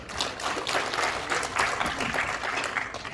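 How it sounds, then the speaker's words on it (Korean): Warm clapping from an audience at a jokgu promotion-league briefing session, welcoming a guest lecturer; dense, close applause with distinct individual claps standing out, steady throughout. "뜨거운 환영 박수 부탁드리겠습니다"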